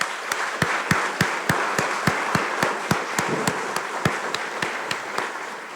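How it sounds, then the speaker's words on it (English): An audience applauds steadily at an event, a continuous wash of many hands clapping, with louder individual claps punching through at a fairly regular pulse. It sounds moderately close, and there is no talking over it. "So please give them all a round of applause"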